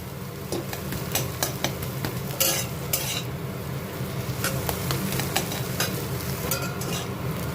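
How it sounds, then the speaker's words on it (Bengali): A metal spatula scrapes and presses a potato filling with salt, turmeric and a little sugar inside a wok, giving repeated irregular clinks and scrapes over a soft sizzle, close up with no talking. "খুন্তির সাহায্যে কড়াইয়ের মধ্যে আমি ভালো করে ম্যাশ করে নেব।"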